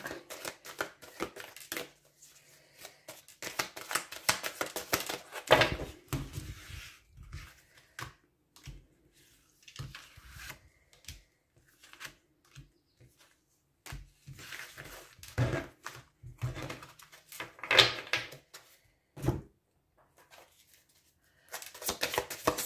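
Oracle cards being shuffled by hand, close and intermittent, with bursts of riffling and sliding cards separated by short quiet pauses.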